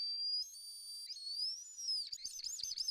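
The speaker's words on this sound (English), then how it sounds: "And I heard if you put it in your mouth and then blow." A candy whistle blown by mouth gives a thin, high, sustained whistle that wavers and bends in pitch, then breaks into quick warbling chirps, with faint breathy noise underneath.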